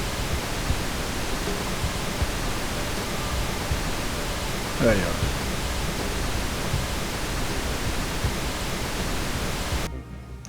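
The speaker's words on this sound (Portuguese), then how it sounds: "Esse é o ruído rosa." Pink noise from a test generator fills the clip as a steady, loud broadband hiss, with a brief voice speaking over it midway before the noise cuts off near the end.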